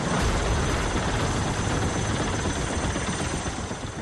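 A helicopter flying during a flood rescue amid heavy monsoon rains: a loud, steady, dense rotor-and-engine roar that holds the whole time with no talking.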